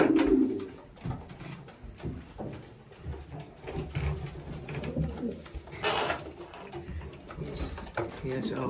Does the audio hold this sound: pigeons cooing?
yes